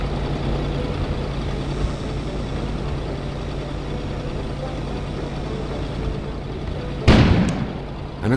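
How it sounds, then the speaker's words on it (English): A sudden explosion bursts outside in the video game Kona, a loud broadband blast near the end that cuts through a steady low rumble of background noise and then decays. "An explosion suddenly occurred outside."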